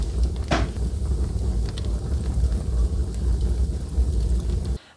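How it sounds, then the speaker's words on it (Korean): Fire draws strongly into the firebox of a repaired Korean ondol room furnace, a steady low roaring rumble with occasional crackles, close and constant before cutting off at the end. "불 들어가는 소리 들리시죠?"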